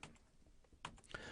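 A few soft, quick computer keyboard key presses, clicking irregularly and faintly amid quiet room sound.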